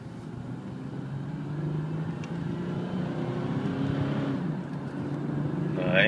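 A front-wheel-drive 1999 Chevrolet Malibu LS sedan is being driven, its engine a low, steady drone heard from inside that slowly builds in loudness over a few seconds.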